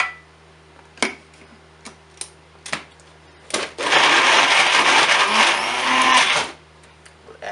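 A blender whirs loudly for a few seconds, mixing fish paste with egg whites, salt and sugar for Filipino-style fish balls, preceded by several sharp clicks and taps.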